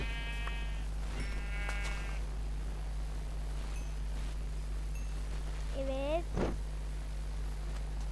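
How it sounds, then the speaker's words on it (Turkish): A few short sheep bleats in Minecraft sound over a steady low hum, spaced apart, with a soft thud near the end. "Şu koyunları da keselim"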